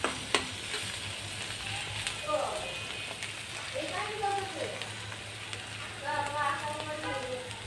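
Sliced bitter gourd frying in a pan, a steady soft sizzle with occasional stirring scrapes, while someone talks over it at intervals.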